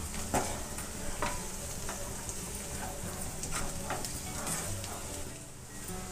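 Potatoes fry in a pan while salt and chili powder are stirred through them for aloo fry, a steady low sizzle broken by scraping stirs at a moderate level, with no voices.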